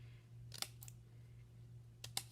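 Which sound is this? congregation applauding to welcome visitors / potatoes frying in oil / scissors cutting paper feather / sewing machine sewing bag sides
scissors cutting paper feather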